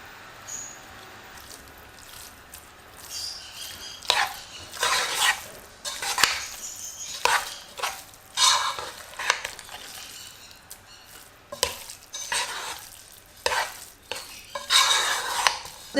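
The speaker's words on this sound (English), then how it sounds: "chop the eggs into it" Eggs being chopped into cooled tuna filling for oven-baked pasties, heard as irregular clinks, taps and scraping of a utensil against a dish, coming in uneven bursts over quiet background.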